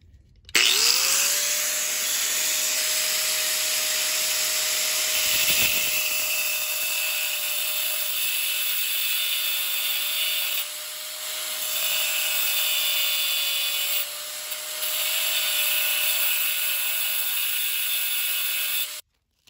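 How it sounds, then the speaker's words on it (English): A die grinder grinds down the tabs on a roller chain link, a loud steady high-pitched whine with a sustained tone running throughout, briefly dipping a few times as contact eases. "we are going to use a die grinder to grind down the tabs on this link here"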